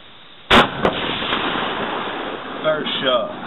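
A single .204 rifle shot fired at a target more than 300 yards away cracks sharply and loudly, followed by a fainter second report, then a quiet outdoor background with a voice speaking softly near the end.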